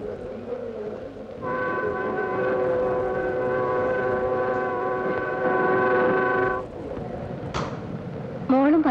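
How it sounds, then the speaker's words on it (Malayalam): A train pulls into a railway station, its long steady horn sounding for about five seconds over the rumble of the platform, followed by a brief shorter tone as people talk nearby. "ട്രെയിൻ വരുന്നുണ്ട്, ഞങ്ങൾ അങ്ങോട്ട് നടക്കട്ടെ."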